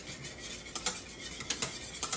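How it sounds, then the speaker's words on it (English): A metal whisk works back and forth through hot banana pudding custard in a cooking pot, giving a quiet, steady scraping with a few sharper clinks against the sides, heard alone without talk. "if you work that whisk back and forth, kind of cool it just a little"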